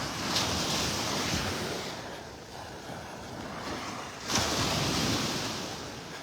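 Surf washing onto a beach in North Naples, Florida, heard during a walk along soft, spongy sand, with steady broadband wash, wind noise on the microphone, and a fresh wave surge breaking near the end.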